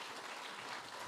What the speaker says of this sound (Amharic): ሞቅ ባለ ጭብጨባ ተቀበሉልን።